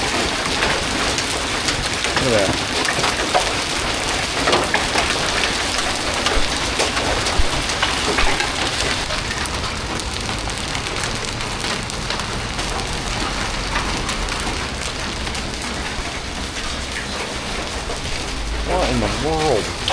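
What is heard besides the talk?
hail falling during a storm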